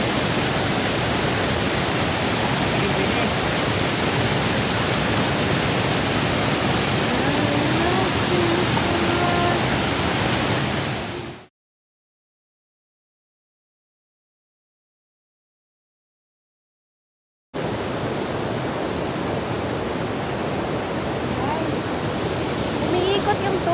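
Busai Dream Falls at Loboc, Bohol, gives a loud, constant rushing roar of falling water that cuts to total silence partway through, then returns just as strongly.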